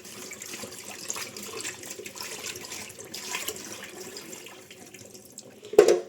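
Water pours out of a container into a sink indoors, a steady splashing stream running for several seconds, with a sharper clunk near the end as the emptied container is handled.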